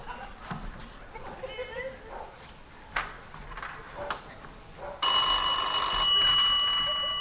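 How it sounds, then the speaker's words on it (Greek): A bell suddenly rings loud and continuous in a Greek film scene, cutting in after a stretch of indoor talk and murmur and holding its bright, sustained ring to the end. "Κουδούνι."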